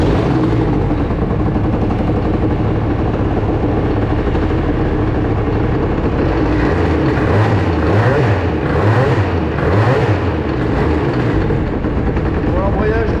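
A Bidalot RF 50 WR motorcycle's two-stroke engine runs steadily at part throttle, a loud, continuous buzzing drone with slight rises and dips in pitch around the middle.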